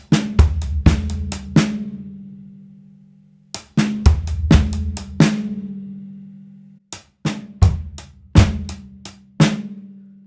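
A drum kit plays the second half of a sticking pattern, with sharp, fast clusters of snare and tom hits over kick thumps that come in three repeated phrases with gaps between them, close and loud with no talking.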